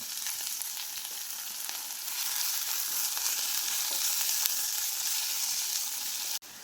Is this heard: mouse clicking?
no